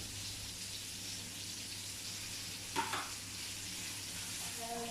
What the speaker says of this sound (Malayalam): നമ്മളിതാ നേരത്തെ കട്ട് ചെയ്ത് വെച്ചിട്ടുള്ള തക്കാളി അതിലേക്ക് ഇട്ട് കൊടുക്കാം